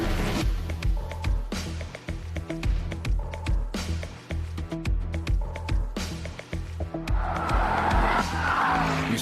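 A new Porsche Panamera driven hard on a racetrack, such as the Nordschleife: engine revs and sharp tire squeal and skids come in choppy bursts amid punchy rhythmic hits, swelling to a louder, harsher stretch near the end.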